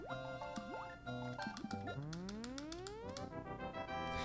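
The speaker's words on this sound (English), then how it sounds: "I like the water level music too" Water level music from Super Mario Bros.: The Lost Levels on SNES plays alone: bright synthesized tones with bouncy melodic notes and long, smoothly rising sweeps.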